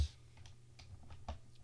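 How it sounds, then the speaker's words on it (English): Typing on a computer keyboard, soft scattered key clicks at an irregular pace, close and quiet, with no talking. "Let me use my keyboard for this."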